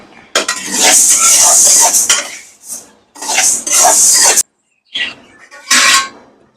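Pearl millet being dry-roasted and stirred in a pan, giving loud bursts of scraping, rattling grain and utensil noise separated by short pauses.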